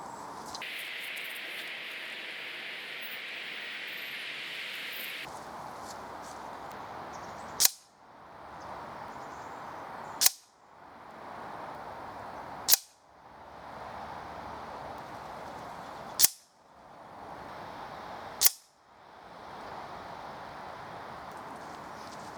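Five sharp air rifle shots from a .177 rifle firing Gamma Match Classic Flathead pellets, spaced a few seconds apart, each a crisp crack with a quick decay over steady background hiss.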